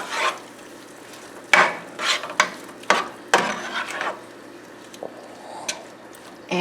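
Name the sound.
zucchini noodles with shrimp cooking down in a skillet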